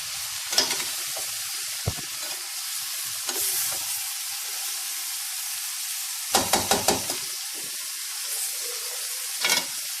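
Potatoes, onions and tomatoes being stirred in hot oil in a pan, sizzling steadily with soft scraping strokes and a quick burst of clatter near the end; no voices.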